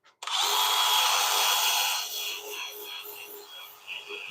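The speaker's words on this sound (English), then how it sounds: "I'm going to hit this with just a little bit of sandpaper here" Sandpaper pressed against a spinning wood bowl on a lathe gives a loud, steady hissing whir for about two seconds, then eases to a softer, fluttering rush as the pressure lightens.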